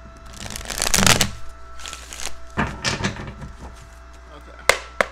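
Tarot cards are riffled and shuffled in several rustling bursts, with soft thumps and a sharp tap near the end, under faint background noise.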